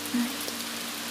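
Steady rain falls through a quiet Tokyo night, a soft, even hiss of drops at moderate distance with a faint low hum beneath, no voices present.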